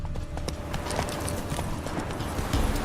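Roach, the horse in The Witcher 3: Wild Hunt Game of the Year Edition, trots along with a steady run of hoof clip-clops over a constant bed of game ambience, with no voices.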